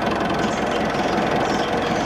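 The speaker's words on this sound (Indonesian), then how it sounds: "pada bagian mesinnya juga sudah dipasangi peredam, jadi tentu suara mesin tidak terlalu masuk ke bagian dalam kabin." Mitsubishi Pajero Sport 4x4 engine running at a steady idle with a constant low mechanical hum and rattle, loud and close, with no talking.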